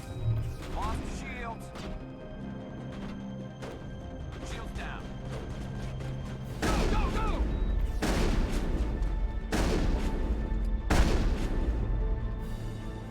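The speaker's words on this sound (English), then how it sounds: "Shotgun time." A shotgun fires in Mass Effect, several heavy blasts spaced a second or two apart, crashing over combat noise, with speech mixed in.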